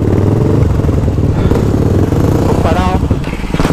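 A supermoto motorcycle engine roars loud and close as the rider pulls a wheelie, its pitch rising and falling with the throttle, while voices shout over it.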